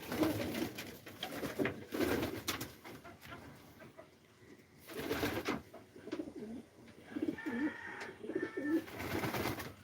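Racing pigeons coo in repeated soft, throaty bursts, several birds close by, with overlapping calls throughout and no talk.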